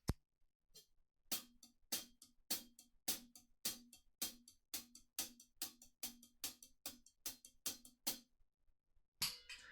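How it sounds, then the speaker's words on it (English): A rhythmic drum pattern of sharp, crisp hits alternating loud and soft accents at a steady pace, close and dry, ending with a final louder hit. "Sounds a little bit like an egg shaker or something like that."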